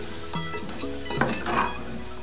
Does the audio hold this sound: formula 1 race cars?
no